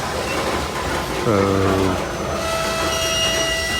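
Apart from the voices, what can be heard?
coal freight train with DPUs stopping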